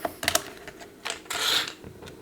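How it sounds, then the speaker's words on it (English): Keycaps are pried off a Logitech G413 mechanical keyboard, giving a few sharp close plastic clicks and snaps followed by a longer scraping rattle. "pulling all the keys off"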